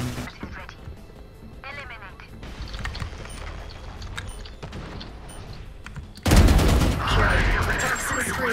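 Gunfire in a team shooter video game rings out under a player's excited talk, starting as scattered, muffled shots and ending in a loud, sustained burst of close fire.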